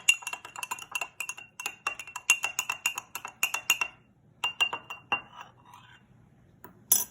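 A spoon clinks and taps against a glass while stirring salt into vegetable oil, giving quick irregular clicks with brief pauses and one last tap at the end, close and fairly quiet.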